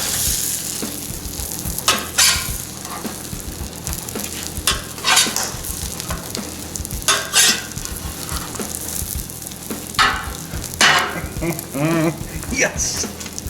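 Bacon and an omelet with green pepper and tomato sizzle steadily on a Blackstone griddle, a constant crackling fry broken by scrapes and spatula clanks, with occasional talk.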